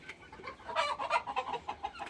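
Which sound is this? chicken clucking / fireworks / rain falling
chicken clucking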